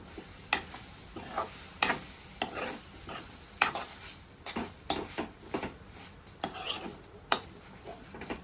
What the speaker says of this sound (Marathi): आता ह्यात मी आंब्याचं आपण जी गर काढून घेतलेला आहे ती ओतून घेते आणि परत मिक्स करून घेते।